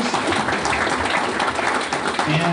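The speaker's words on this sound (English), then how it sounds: "thanks, round of applause for Capital Factory, and for Steve Rock, for our sponsors." Audience applause at a Python meetup in Austin, a continuous wash of clapping filling the room, with a few voices mixed in underneath.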